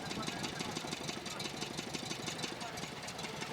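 A sidecar motorcycle with a fully enclosed, cowled engine idles steadily up close at a motorcycle tourists' camp, with a rapid even chugging pulse and a voice talking over it.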